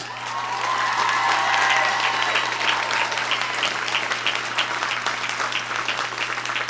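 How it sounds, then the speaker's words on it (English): An audience at a digital design studio live stream breaks into loud, sustained applause, many hands clapping steadily with a few cheers rising near the start, then holding at an even level throughout. "I would like you all to please give him a round of applause"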